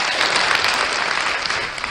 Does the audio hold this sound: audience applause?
yes